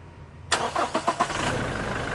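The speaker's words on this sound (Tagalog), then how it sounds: "Start ko na itong makina." A Toyota Innova engine with a stalling problem cranks in a few quick rhythmic turns, then catches and settles into a steady idle, heard close and loud after a quiet start.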